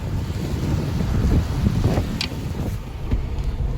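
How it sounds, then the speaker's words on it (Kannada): Wind rushes past a moving auto rickshaw on a road toward Indiranagar, Bengaluru, as a steady loud buffeting roar over the microphone, with a few faint rattles and no talk. "ಗಾಳಿ ಎಷ್ಟೋ ಗ್ಯೂನ್ ಬರ್ತದೆ"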